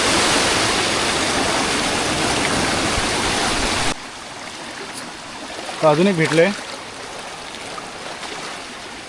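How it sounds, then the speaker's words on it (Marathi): A rain-swollen river roars loud and close, then cuts off abruptly to a quiet background where someone speaks briefly. "एवढं पाणी वाहतंय जोरात"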